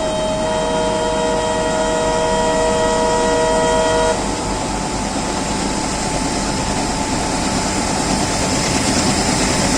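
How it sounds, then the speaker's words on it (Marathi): A train arrives after crossing. A long sustained horn blares for the first four seconds, then a loud, steady rumble of rolling wagons continues on its own. "हे बघा तिकडनं ट्रेन येते क्रॉसिंग करून"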